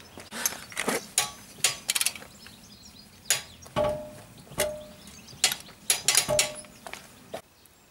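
A wrench clicks and ratchets in short irregular bursts while a drive shaft bolt is tightened to torque on a car axle during a CV boot replacement, close and fairly quiet, with no talking.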